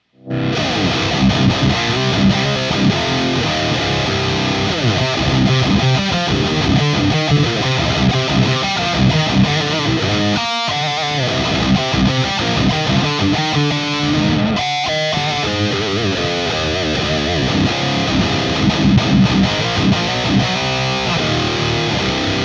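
Heavily distorted electric guitar plays loud, dense metal riffs with effects, sustained and continuous, with two brief cut-outs partway through.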